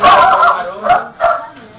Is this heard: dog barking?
yes